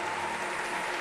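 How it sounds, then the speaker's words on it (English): Steady distant applause from the crowd at the 2019 European lead climbing championship finals, a continuous even hiss of many hands with a faint tone running underneath. "Round of applause"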